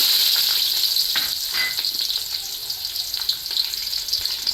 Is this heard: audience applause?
no